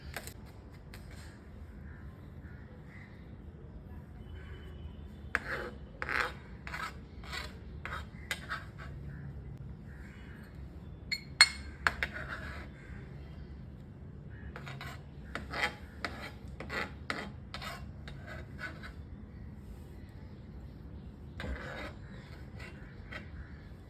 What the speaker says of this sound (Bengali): এটা কয়েক দানা খোসা ছাড়ানো রসুন, এটা আমি কুচিয়ে নেব ফোড়নের জন্য।